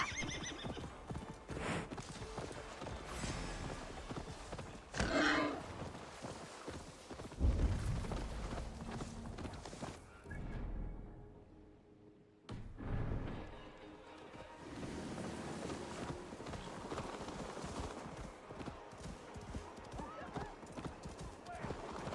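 Horse hooves clip-clop at a fast gallop through most of the run, with whinnies and neighs, in the Viking-era open world of Assassin's Creed Valhalla; the pounding rhythm briefly drops out mid-way, and voices talk over it.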